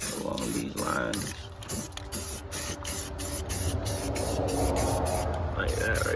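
Aerosol spray paint hisses in repeated bursts while a coat goes onto the engine bay of a built 2JZ-swapped Lexus IS300, close and steady, with someone talking over it.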